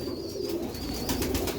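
Rare pearl-marked breed pigeons in a loft give low cooing calls, mid-level and close, mixed with rustling and a thin high tone in the background.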